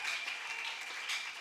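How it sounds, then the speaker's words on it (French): Audience applause in a church during a Sunday sermon, a steady wash of clapping from a congregation, moderately faint and continuous for a brief moment with no talk over it. "Ah, on applaudit pour ce Seigneur-là."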